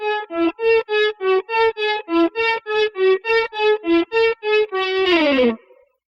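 Electric guitar lick played slowly without echo, a string of about fifteen clean, distinct picked notes in a steady rhythm, ending on a sliding, bending note that fades out, up close and alone.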